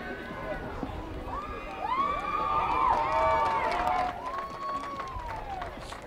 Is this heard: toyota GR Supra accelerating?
no